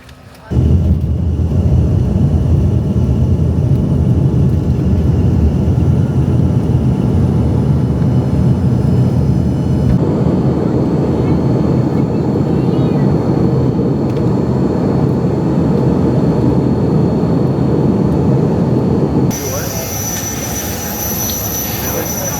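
Steady loud roar of an airplane cabin in flight, a dense continuous engine and air noise that holds evenly throughout, dropping slightly in level near the end; no talk stands out above it.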